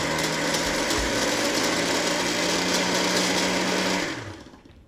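A blender chops garlic for hummus, running as one loud, steady whirring burst close by that winds down and fades at the end, with no talking.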